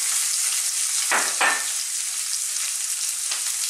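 Sliced onion frying in hot oil with curry leaves for a pomfret coconut masala curry gives a continuous close sizzle, broken by a couple of sharper splattering bursts early on and another near the end.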